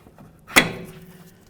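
Brake caliper on a 2011-2016 Hyundai Elantra sliding over the front rotor, a single brief metallic scrape and clunk, close and fairly loud, with quiet background before and after.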